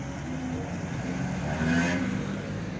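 Slow street traffic in Tegucigalpa, with a car engine droning and rising slightly as it passes nearby, steady and moderately loud throughout.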